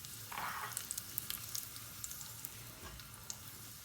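Dried red chillies crackle and sizzle in hot coconut oil in a Kerala kitchen. The frying stays quiet and steady, with scattered small pops and no voices.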